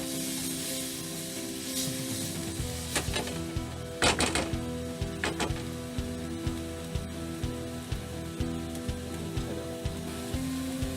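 Vegetables for egg fried rice sweating in a hot pan, a continuous soft sizzle with crackling spits, overlaid by steady tonal hum and a few sharp clatters of utensils against the pan, no voices.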